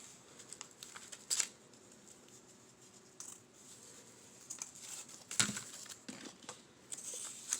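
Scissors snipping through paper for a no-sew journal project, a series of quiet, close crisp snips and rustles spaced irregularly, with soft paper handling sounds between cuts.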